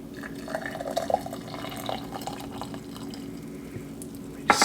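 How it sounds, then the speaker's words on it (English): Hot water trickles and splashes steadily into a cup, a soft liquid pour with faint dripping, close by. "So I'm going to pour the hot water in"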